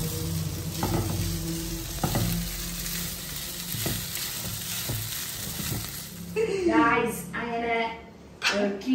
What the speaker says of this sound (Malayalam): ബീഫും കൂടെ ഇട്ടിട്ട് നന്നായിട്ട് ആ മസാല മൊത്തം കൂടെ നന്നായിട്ട് മിക്സ് ചെയ്ത് വെക്കുക